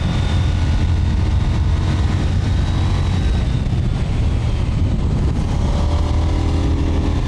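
A KTM 990 Duke R motorcycle ridden through the Austrian hills, its engine a loud, steady low drone with rising and falling pitch and heavy wind rush throughout, heard from on board.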